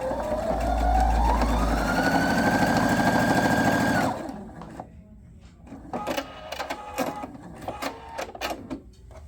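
A sewing machine quilts thick woven fabric with a size 14 needle and a 3 mm stitch, whirring steadily for about four seconds as its pitch climbs. It then stops, leaving scattered clicks and handling noises.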